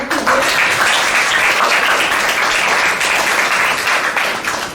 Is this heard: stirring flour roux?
no